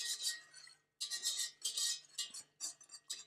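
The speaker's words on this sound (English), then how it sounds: "We're going to whisk this until all the cornstarch is dissolved" A whisk scraping around a bowl to dissolve cornstarch for egg drop soup, quick faint metallic strokes in short bursts, close and otherwise quiet.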